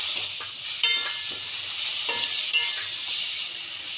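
Chopped tomatoes go into a pan of brinjal masala, giving a steady hissing sizzle with a few brief stirring scrapes and clinks, close and moderately loud.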